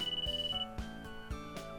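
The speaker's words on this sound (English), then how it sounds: "携帯鳴ってるよ。" Mobile phone ringtone from a visual novel game, Hoshi Ori Yume Mirai, a short repeating electronic melody playing clearly on its own, fairly quiet.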